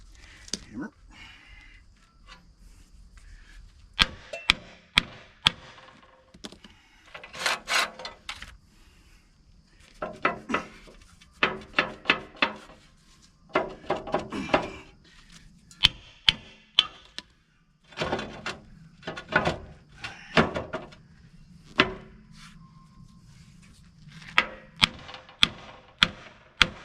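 Repeated sharp metallic hammer strikes on an MM AF plow while fitting new points, in irregular bursts, some rapid clusters, with someone talking intermittently between blows.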